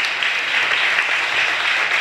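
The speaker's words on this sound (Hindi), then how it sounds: "एक दफा और जोर से ताली बजाएं" A church congregation claps and applauds during a sermon, a steady, dense wash of many hands continuing loudly throughout without a break.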